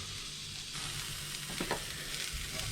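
Mushrooms sizzle in a very hot frying pan with a constant hiss, broken by a couple of brief scraping stirs near the middle; nobody speaks.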